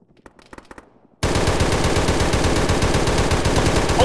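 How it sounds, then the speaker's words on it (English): Machine gun fire in the video game Arma, a loud sustained automatic burst of rapid shots that bursts in after a second of faint clicks and keeps hammering without pause. "that little hut to your north, if you want, we can hit with some machine gun fire"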